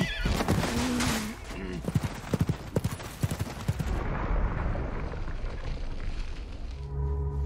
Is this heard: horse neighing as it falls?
yes